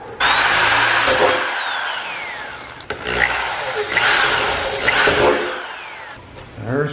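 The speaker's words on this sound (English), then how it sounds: "I'm going to drill a smaller hole first and then we're going to drill through." A power drill bores holes through a Honda Civic Type R for a replica rear wing: two bursts of close, loud drilling, each whining up and then winding down, with grinding and rubbing texture and a short pause between them.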